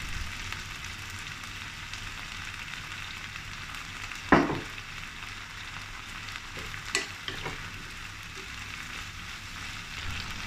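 Green beans with garlic and dried shrimp sauté in a pan, a steady soft sizzle close by, broken by a sharp utensil clack and a few lighter scrapes of stirring.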